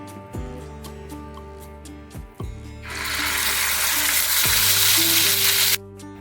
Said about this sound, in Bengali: তিল, নারকোল, পেঁয়াজ, আদা, রসুন আর পোস্ত, কাজু তেলের ভেতরে দেবো।